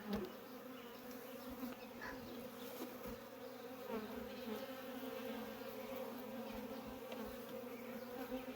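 Continuous low buzzing of many honey bees close by at an open hive during re-queening, a dense steady hum with no voices.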